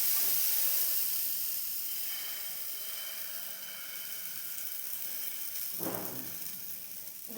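Carrot batter hissing and sizzling on a hot griddle, a steady soft hiss that slowly fades, then a brief louder crackle near the end.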